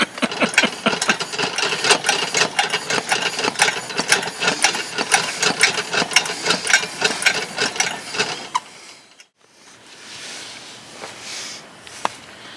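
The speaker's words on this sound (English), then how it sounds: "guess I better pump up the lantern here" A pressurized camping lantern pumped by hand in a canvas hunting tent: a fast, steady run of close rhythmic pump strokes with clicks and squeaks for about eight seconds, then quiet with a faint hiss and a final click.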